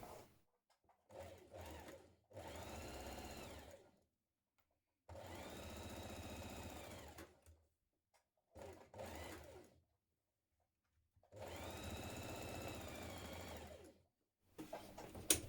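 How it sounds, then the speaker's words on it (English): A sewing machine stitching two side pieces of a sweatshirt together, running in steady whirring bursts of a couple of seconds each with silent pauses between, close and fairly quiet. "push that pocket out of the way while you stitch these two side pieces together"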